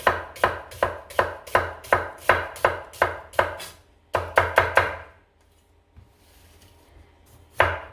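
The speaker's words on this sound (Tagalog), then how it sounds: "slice lang natin ito ng maninipis na mahahabang ganyan" Onion being sliced thinly with a knife on a board: a fast, even run of sharp chops, a short pause, then a few more cuts and a final chop.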